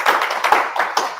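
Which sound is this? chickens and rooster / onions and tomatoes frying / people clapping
people clapping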